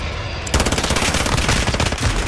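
A Finn LMG in Modern Warfare opens up after a brief pause with a rapid, sustained burst of loud, close machine-gun fire, rounds cracking in an even rhythm.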